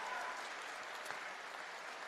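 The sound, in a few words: audience applause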